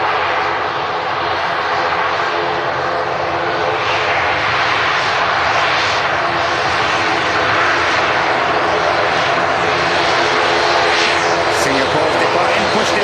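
A Singapore Airlines airliner departing Manchester Airport roars steadily and loudly throughout, a broad continuous jet engine wash with no break.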